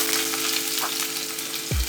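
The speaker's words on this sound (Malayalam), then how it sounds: "എണ്ണ നന്നായിട്ട് ചൂടായിട്ട് നമ്മൾ ഇതിനകത്തോട്ട് അരിഞ്ഞു വെച്ച് ചുവന്നുള്ളി ഇട്ട് കൊടുക്കുക" Chopped shallots fry in hot coconut oil with a steady, close sizzle and crackle. A low thud is heard at the very end, and nobody speaks.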